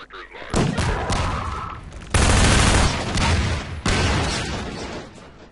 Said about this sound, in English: Whoa, explosions.